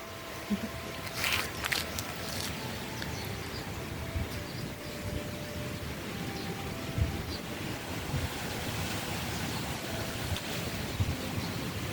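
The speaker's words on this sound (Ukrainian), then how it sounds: "Вітер, прохолодно стає." Steady wind rushes and buffets outdoors in a garden without a break, a broad breathy roar with occasional gusts and faint background noises.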